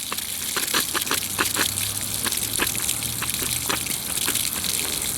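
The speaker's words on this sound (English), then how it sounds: "Oh, I hear some gurgling." Water gurgles and gushes out of a low-pressure tap, with a steady wet rush broken by irregular bubbling spurts and splashes, fairly close and alone.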